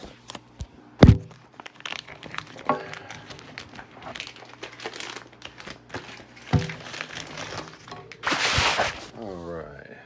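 Plastic packaging around a pair of Radioddity GA-2S walkie-talkies being cut and torn open, with loud crinkling, snipping and thunks as the bag is handled up close, ending in a long rustle.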